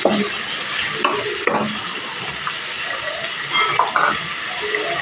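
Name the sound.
stir-frying carrots and onion for fried rice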